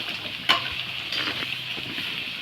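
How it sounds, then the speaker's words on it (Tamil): Gooseberries frying in oil with peas, capsicum and other vegetables, a soft steady sizzle with a sharp spoon scrape and brief stirring rustles, close and quiet, no voices. "நெல்லிக்காய் போட்டப்புறம் நல்லா ஃப்ரை பண்ணிகிட்ருக்கோம்"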